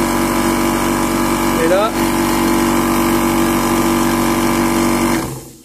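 A pump machine runs steadily at idle with a purge valve open, a loud constant hum with tonal whine that briefly shifts, then winds down as it is switched off near the end; a voice speaks briefly at the start.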